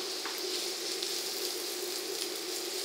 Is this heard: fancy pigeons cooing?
no